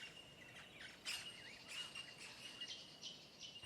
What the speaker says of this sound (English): Australia's many colourful birds took quickly to the new habitat